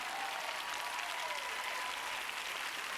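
An audience claps steadily and densely, a continuous wash of applause at an even level throughout with no pauses.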